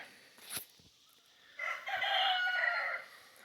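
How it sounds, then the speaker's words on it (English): A rooster crows in one long, loud call after a brief squawk, with chickens squabbling nearby in a backyard flock at evening, no voices. "And we got another chicken fight going on."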